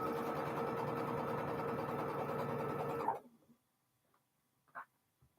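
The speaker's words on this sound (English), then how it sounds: "I am just sewing across that little square." A sewing machine stitches across a small fabric square, a steady close whir for about three seconds that stops abruptly, followed by near silence with a couple of faint small clicks.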